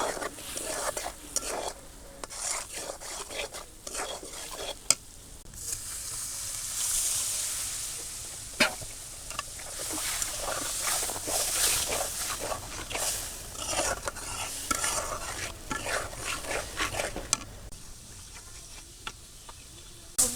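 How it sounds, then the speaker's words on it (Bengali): Chili powder, turmeric and salt spice mix being stir-fried in a pan, a soft sizzle with repeated scraping and stirring strokes of a utensil, close and fairly quiet, with no talking. "মরিচের গুঁড়া লবণ এটা ভালোভাবে ভুনে নেব"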